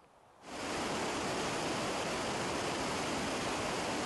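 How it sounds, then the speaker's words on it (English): The Kennebec River rushes past with a sudden swell into a loud, steady broadband wash of flowing water that continues unbroken, with no voices. "I'm here at the Kennebec River at the start of the water treatment cycle."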